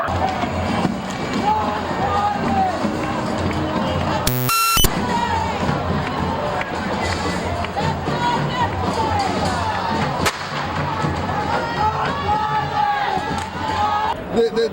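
Dense protest crowd noise in Seattle as police spray tear gas and fire rubber bullets, with loud continuous shouting and chanting, a sharp burst around the middle and a single crack later.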